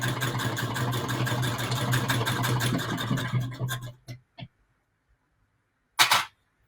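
A hand-crank sewing machine stitching patchwork, a rapid steady mechanical clatter with an underlying hum for about four seconds, then a few isolated clicks and a final short burst.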